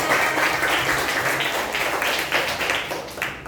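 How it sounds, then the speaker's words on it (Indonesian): A classroom group claps hands together in a dense, steady patter that runs throughout, fairly loud and close, easing off slightly near the end. "Keep your clap your hand, please"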